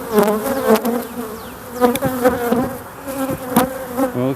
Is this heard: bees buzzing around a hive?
yes